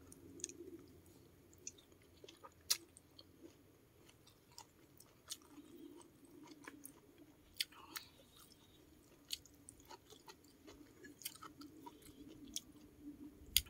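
Blanched rose flowers are eaten with khanom jeen rice noodles in kaeng tai pla fish curry. The chewing is faint and close, with soft, moist mastication and scattered small crunchy clicks.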